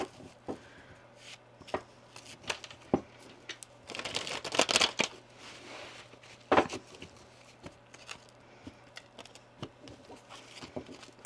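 A slippery tarot card deck being shuffled and handled, with soft scattered card taps and flicks, a denser riffling burst in the middle and a sharp snap, fairly quiet and close.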